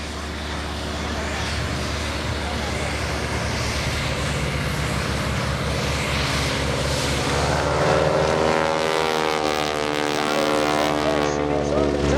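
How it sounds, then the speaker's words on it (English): A 450 horsepower Super Stearman biplane at an airshow wingwalking act drones steadily with its propeller engine, the tone rising and shifting as it passes overhead, while a commentator talks over it throughout. "that 450 horsepower Super Stearman"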